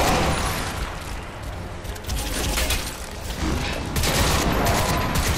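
Sustained automatic gunfire in the shooter game Crysis 2, dense rapid bursts of rattling shots with mechanical clatter, loud and continuous throughout with no talk.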